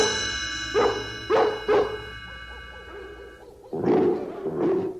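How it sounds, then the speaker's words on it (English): Several dog barks sound in a cartoon-like audiobook setting, a few single sharp barks, then softer repeated calls, then louder howling barks near the end, with no talk over them. "We'll use the twilight bark to alert all the dogs in London and in the villages nearby."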